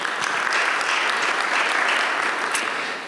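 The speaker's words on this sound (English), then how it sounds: "Give him a round of applause." A conference audience applauds a hospital CEO introduced on a healthcare panel, a brisk, dense patter of many hands clapping, loud and steady for about three seconds before easing off slightly, with no speech over it.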